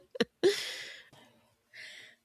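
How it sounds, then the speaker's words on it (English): A person burps close to the microphone during a podcast, a few short, quiet bursts with brief silences between them. "Sorry, I had a burp."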